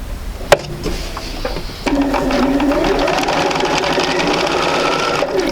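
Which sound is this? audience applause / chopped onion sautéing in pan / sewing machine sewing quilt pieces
sewing machine sewing quilt pieces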